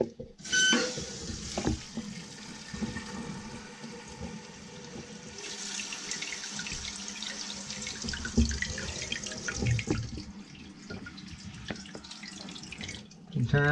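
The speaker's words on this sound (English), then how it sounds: "You're gonna turn your water on." Water supply to a newly installed toilet is turned on, and a steady hiss of water filling the tank runs the whole time, close and moderate, with brief clunks and small surges of flow along the way.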